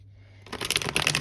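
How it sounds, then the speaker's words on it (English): A tarot card deck being shuffled, quiet at first, then a rapid run of crisp riffling flutters and clicks, close and loud. "I have been shuffling off camera, but I will give the deck a few more shuffles."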